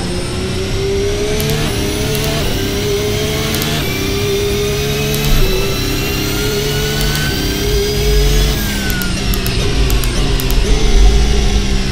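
A race car's engine (MGU-K hybrid setup) pulls away as the progressive clutch engages, revving through rising whining gear pitches with a louder surge near the end, close and dominant.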